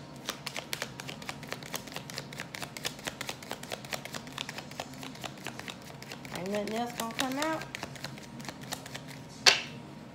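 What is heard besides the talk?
shuffling a deck of tarot cards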